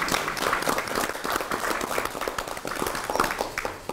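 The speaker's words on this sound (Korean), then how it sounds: "큰 박수 한번 보내주시겠습니다" Audience applause at a Korean party meeting where candidates for regional governor are introduced, a steady dense patter of clapping from a crowd in a hall that holds throughout without speech.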